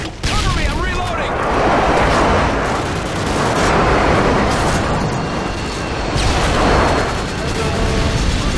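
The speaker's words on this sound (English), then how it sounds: "Friendly airstrike inbound." Airstrike in a Modern Warfare 2 match: dense, loud booming explosions roll continuously with overlapping gunfire, while voices shout throughout.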